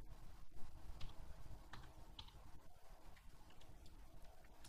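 Keyboard typing on a computer while setting up a video converter, a few quiet scattered key clicks over a low background hum.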